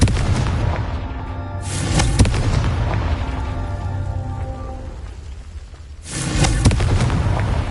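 A Confringo fire spell in the video game Hogwarts Legacy erupting in heavy, rumbling bursts with crackling debris, two strong blasts separated by a lingering low roar, loud and close.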